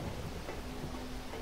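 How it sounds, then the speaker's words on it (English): Heavy rain in the video game Silent Hill: Downpour, a dense, even hiss of falling water that holds steady and fairly quiet without a break. "All wet. Heavy rain."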